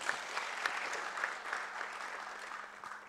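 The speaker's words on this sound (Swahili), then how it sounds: "Makofi kwao" An audience at a logistics and transport association launch claps steadily, a dense, even patter of many hands that carries on throughout at a moderate, slightly distant level.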